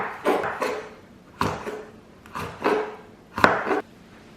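A knife chops vegetables finely on a cutting board for a Chinese egg salad, four short bursts of quick rhythmic taps, each about half a second long, separated by brief pauses, close and clear.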